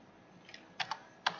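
A few scattered keystrokes on a computer keyboard typing a command during mail server configuration, sparse soft clicks with pauses between them, faint and close.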